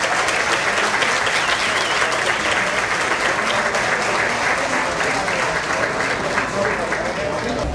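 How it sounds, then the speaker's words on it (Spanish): An audience at the San Pedro Sula municipal swearing-in ceremony gives the new mayor a loud, sustained round of applause, with dense clapping and some crowd voices mixed in. "Lo recibimos con un fuertísimo aplauso."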